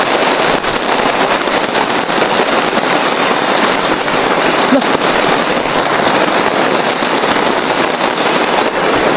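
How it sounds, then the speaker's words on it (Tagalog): A dense, loud wash of downpour noise, constant and close, with a rough hiss and low rumble that never lets up. "Sobrang lakas ng ulan."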